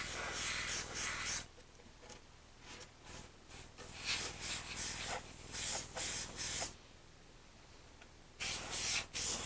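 An airbrush sprays paint onto a foam RC warbird model plane in short hissing bursts of varied length, separated by quiet gaps, close and clear.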